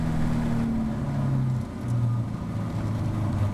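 Caterham racing car at Oulton Park on a wet circuit, engine droning steadily with a rising pitch as it accelerates out of a corner, close and loud throughout.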